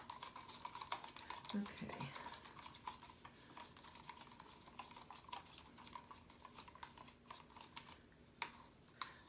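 A paint and silicone mixture is stirred in a container with soft, repeated scraping and light tapping strokes, quiet and close, with one brief word spoken.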